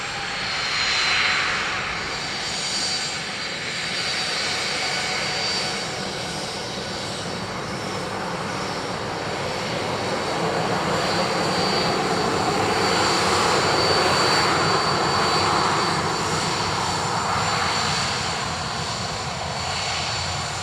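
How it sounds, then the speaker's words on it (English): Airliners arriving at Dublin Airport roar steadily from a distance, a broad continuous jet rumble that swells and fades over about twenty seconds, with no voices. "Oh yeah, planes. Forgot about them."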